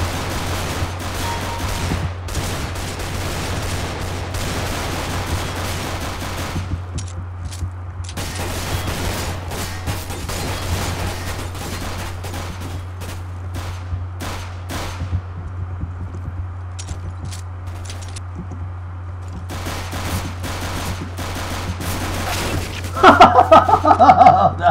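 Rapid bursts of gunfire from Counter-Strike: Global Offensive on the Safehouse map, with repeated sharp shots in clusters over a steady low background hum, growing louder and denser near the end.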